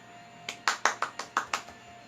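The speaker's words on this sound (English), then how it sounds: "Let's get a round of applause." About seven sharp, separate hand claps ring out in quick succession during a children's story time session, fairly close and modest in volume rather than a full crowd round.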